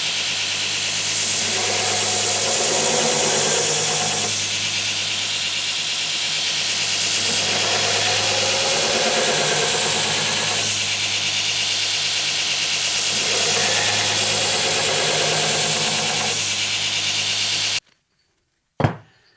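Belt grinder with 80 grit abrasive working over mosaic Damascus steel bars: a loud, continuous broadband grinding roar with slight swells as passes are made, cutting out abruptly near the end followed by a brief knock.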